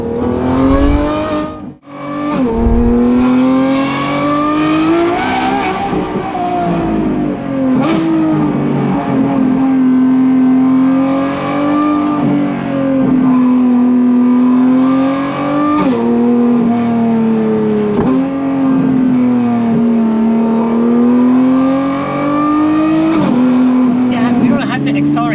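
A Lamborghini Revuelto fitted with a Valvetronic Designs race exhaust revs loudly and holds a high-pitched, howling tone that rises and falls in repeated sweeps over about twenty-five seconds, close and dominant, with a short dip near the start.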